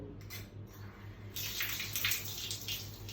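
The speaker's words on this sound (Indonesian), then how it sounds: "Pertama, nyalakanlah keran air." Water runs from a turned-on tap at a hand-washing sink, a steady faint splash that grows fuller and louder midway, with no talking.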